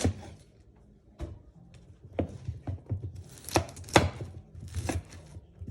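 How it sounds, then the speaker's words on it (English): Cauliflower being chopped with a knife on a board, a run of sharp irregular cuts, sparse at first and then quicker and louder, close by with no talk. "I'm going to chop cauli down"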